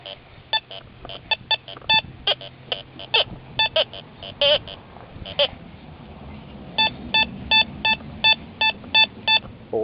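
Repeated clear beeps from a Teknetics Eurotek Pro metal detector sweeping over a dime buried four and a half inches down, steady bursts in two groups with a brief pause, close and loud with no talking.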